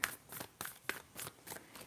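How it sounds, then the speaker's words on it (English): Tarot cards shuffled in a quiet ASMR tarot reading, giving a steady run of soft, crisp riffling bursts about every third of a second. The sound is close and gentle, with no talking. "I'm going to shuffle, clear out the energy."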